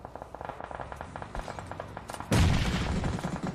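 Gunfire in a battle royale shooter video game crackles as rapid, evenly spaced shots, then a louder, dense burst of firing breaks in near the end. No one speaks.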